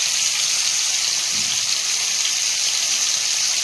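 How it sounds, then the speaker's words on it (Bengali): Tilapia fish frying in hot oil, a steady loud hiss and sizzle that continues unbroken throughout, with no voices. "এদিকে তেলাপিয়া মাছটা ভাজা হচ্ছে"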